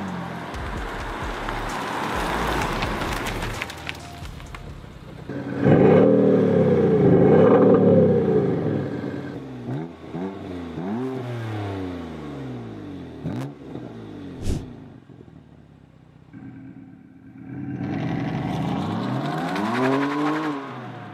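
A BMW M4 Cabrio F83 (431 PS) fitted with a Maxhaust active sound system revs repeatedly, its engine note rising and falling in swooping sweeps between quieter idle stretches, clear and close.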